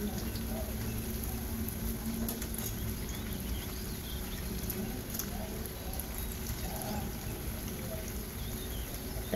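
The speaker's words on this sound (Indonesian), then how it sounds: "lanjutkan menggoreng sebelah sisi lainnya hingga cukup" Vegetable fritters (bakwan) frying in hot oil, a continuous dense crackle and sizzle that stays even throughout, with faint talk in the background.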